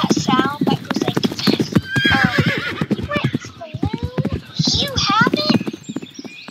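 Horse hooves and whinnies from a horse riding video game run under nearly constant excited talking, with squeaky neigh-like calls rising briefly between voices.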